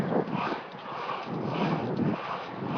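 Dogs riding in a passing pickup truck on a street in Spokane, heard as a muffled, steady whine and yip-like noise mixed with traffic and wind.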